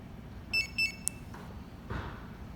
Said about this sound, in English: sound in the background was your trunk opening.